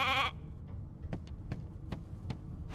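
A sheep in the video game Divinity: Original Sin 2 gives a single short, clear bleat at the start, followed by quiet, evenly spaced soft thumps.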